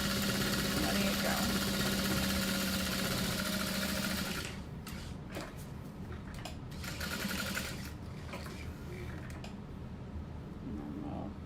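A sewing machine stitches a handbag in a steady, loud mechanical run for about four seconds, then stops, leaving softer handling noises and faint background sounds.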